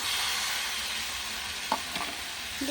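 Fried cauliflower pieces tipped into a pan of sizzling spice masala and oil: a steady hiss of frying, with a couple of brief stirring clinks near the end, quiet and close.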